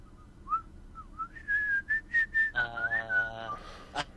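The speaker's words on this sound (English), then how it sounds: "I don't mean to whistle." A person whistles a short, wavering tune during a tabletop zombie board game session, a few rising and falling notes followed by a sustained tone, close and clear over quiet room noise.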